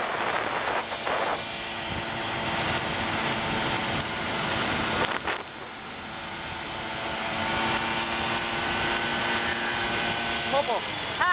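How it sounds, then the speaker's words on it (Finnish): A Kawasaki KMX 125 motorcycle engine runs in Jyväskylä with a steady, buzzing two-stroke drone and a brief revving surge midway, heard up close with voices in the background. "Pörinä mopo."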